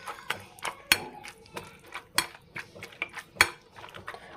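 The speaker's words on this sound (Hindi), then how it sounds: "इसको हमने ऐसे मैश करना है, ज़्यादा बारीक भी मत करें, बस नॉर्मल इसको मैश करें" Roasted eggplant being mashed for Pakistani dhaba-style bharta, heard as repeated sharp clinks and knocks of a utensil against a dish in an irregular rhythm, close and fairly quiet with no voices.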